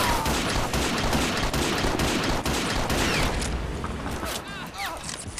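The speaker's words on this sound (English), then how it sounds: "So now the enemy is shooting my troops" Dense gunfire crackles nonstop in the Men of War Assault Squad war game's Market Garden battle, rapid overlapping shots and bursts with mechanical clatter, while someone talks.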